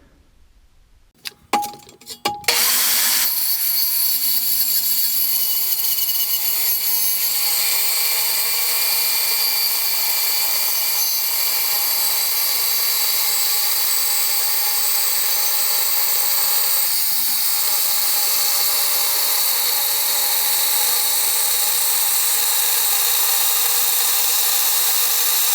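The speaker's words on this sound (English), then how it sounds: "got the trusty old Milwaukee metal cutting saw with carbide tip blade, and it makes it easy work" An old Milwaukee metal cutting saw with a carbide-tipped blade cuts steel in a shop. A few clicks and a spin-up give way to a loud, steady, high-pitched cutting whine that holds unbroken for over twenty seconds.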